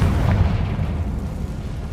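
Confringo fire spell detonating in Hogwarts Legacy, a single loud, deep booming blast with a rumbling tail that slowly fades over two seconds, no talking.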